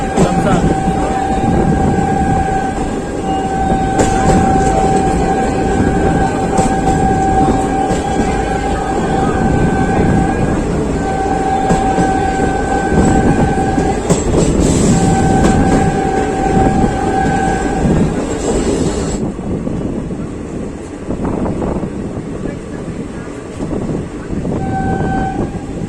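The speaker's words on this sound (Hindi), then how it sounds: "हम लोग की जो ट्रेन है वो तो पूरा वाराणसी सिटी से निकल चुकी है" The Chhapra Intercity Express rolls along the rails near Varanasi, a loud continuous rumble and clatter heard from inside, with repeated long horn-like tones through the first two-thirds before the roar softens slightly.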